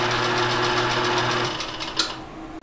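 Drill press with a belt-driven four-speed pulley and a speed reducer turning at about 150 RPM, a steady close mechanical whirring hum that eases off partway through, with a brief sharp click near the end.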